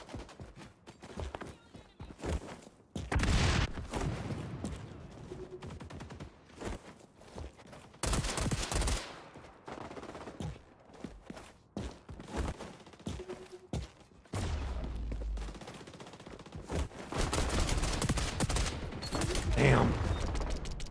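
A suppressed rapid-fire gun in the shooter game XDefiant fires in several short and long bursts amid footsteps and mechanical game noise, close and moderately loud, with spoken voices at times.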